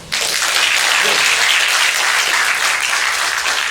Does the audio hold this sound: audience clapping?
yes